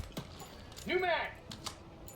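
A magazine reload in the shooter game Helldivers 2: a couple of sharp mechanical clicks bracket a brief rising whir and rattle, all quick and close.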